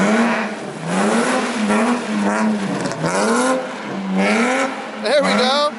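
A car slides through a snowy drift with a clutch kick and steady throttle, its engine revving and rising in pitch in repeated surges, loud and close, while people talk over it.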